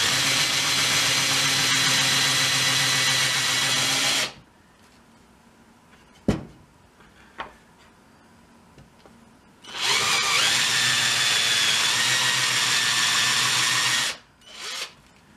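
An electric drill bores a hole into wood for a coat hook, whining loudly and steadily for about four seconds, then falling silent before a second long, even run of drilling.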